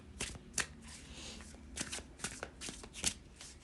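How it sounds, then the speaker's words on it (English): Tarot cards shuffled by hand in a string of crisp riffling bursts with short pauses between them, close and fairly quiet, with no voice over them. "Let's pull a couple of cards to clarify."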